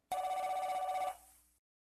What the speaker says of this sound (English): He lowered his iPhone and stared at the old cordless phone as it rang on the end table.